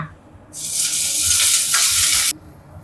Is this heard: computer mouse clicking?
no